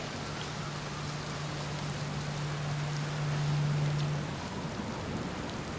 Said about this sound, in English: It's a good thing I never get bored of rain